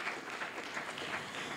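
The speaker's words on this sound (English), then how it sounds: "Give a round of big clap to him." Brief burst of audience clapping at a young future leaders summit at UUM, a dense moderate patter of many hands lasting under two seconds, with no voices over it.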